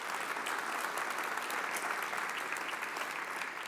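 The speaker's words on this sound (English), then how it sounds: "I think, worth a round of applause" A hall of staff at a community college district convocation claps together, a dense, even wash of applause heard from within the crowd, sustained throughout without speech.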